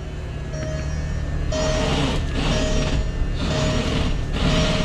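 A VW Beetle engine idles steadily after a power steering fluid refill, a constant low mechanical hum with faint whine and periodic swells as the steering is worked, fairly close and loud with no talk.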